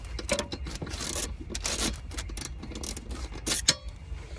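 Ratcheting and scraping from a 13mm socket on an extension unscrewing bolts on a Volvo XC90 during a battery replacement, a close series of uneven rasping clicks and metallic rubs without any speech.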